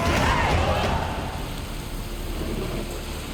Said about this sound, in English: Rain's back again.